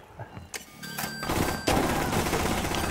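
Video game gunfire from a tactical shooter against advanced bots, a few sharp shots early on, then a louder, denser burst of firing that carries on steadily to the end.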